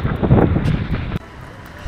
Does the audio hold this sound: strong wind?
yes